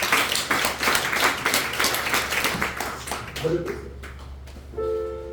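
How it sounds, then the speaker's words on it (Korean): A church congregation clapping during a Sunday worship service, a loud burst of many hands that fades after about three seconds, followed by scattered taps, a murmur of voices and a brief tonal ping near the end. "박수 한번 쳐주시죠."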